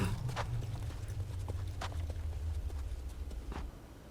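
Horse hooves clip-clop at a steady walking pace in the animated series Castlevania, with a low rumbling bed underneath and a few sharp clacks standing out.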